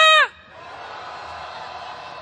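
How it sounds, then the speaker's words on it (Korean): A protest crowd at a rainy January candlelight march roars a long sustained wave of booing and shouting, preceded by a brief rising whoop. "다시 야유의 함성 질러보겠습니다."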